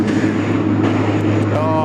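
A Qantas Airbus A380 spooling up its four engines at Sydney airport, a loud, close rising roar with a whining tone climbing near the end, dense and sustained across the short stretch.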